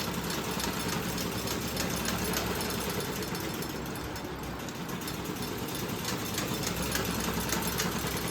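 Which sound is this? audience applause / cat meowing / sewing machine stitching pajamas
sewing machine stitching pajamas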